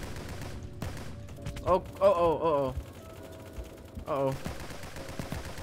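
Gunfire from a chaotic shooter video game crackles in a steady background barrage, with a man's brief exclamations and voiced reactions rising over it.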